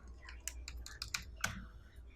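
Name being typed on a computer keyboard while entering a new record in MS Access, a short run of close, crisp key clicks at an uneven pace with no talking.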